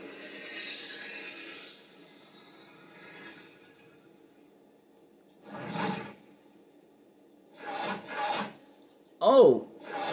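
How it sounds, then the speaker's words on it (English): Kaprosuchus Trojan bite attack in the Path of Titans video game, played as a mod. A faint rasping growl gives way to quiet, then several short harsh bursts of snapping and roaring, the last one loudest. "so here's the Trojan bite"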